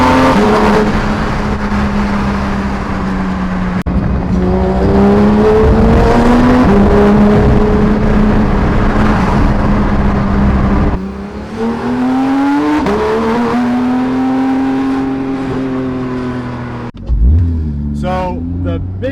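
A Porsche GT3 RS engine, revving to 9,000 RPM, revs hard on launch control, pitch climbing and dropping through several loud rising sweeps, with a final sharp rev near the end.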